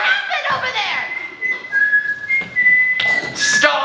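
A thin, wavering whistled tune runs through most of the stretch, with a voice and other sounds mixed in around it.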